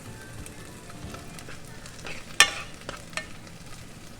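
Garlic stir-frying in pork lard sizzles steadily and close up, with a spatula scraping and tapping the pan in scattered hits, one louder clank in the middle.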